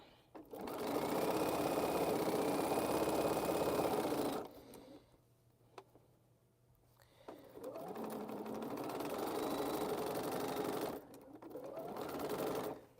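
A sewing machine stitches and back stitches quilt borders, running loudly up close in bursts with short stops between, and a quieter stretch in the middle where faint movement is heard.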